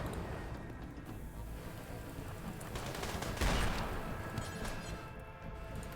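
Sustained gunfire rattles through a video game battle, with dense overlapping bursts and a louder crash near the middle, continuous and fairly loud with no talk.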